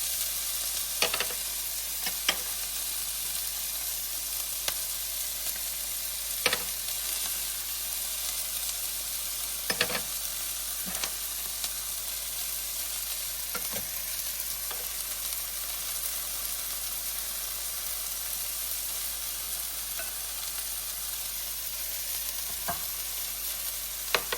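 Onions and spices sauté in a pan, giving a steady, close sizzle throughout. A spoon or spatula scrapes and clicks against the pan now and then as the mixture is stirred.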